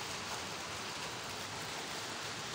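Rain pours down in an unbroken wash of fine hiss, constant and moderately quiet, with no speech or other sounds breaking through.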